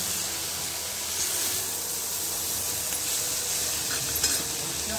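Ghevda beans are stirred in a frying pan, giving a steady sizzle and hiss with faint scraping. It stays even and close throughout, and no one speaks.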